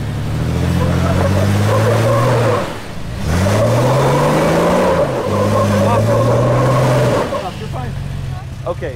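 Engine of a huge off-road wrecker truck revving hard while driving, rising and falling in loud surges with a brief dip midway, under people talking.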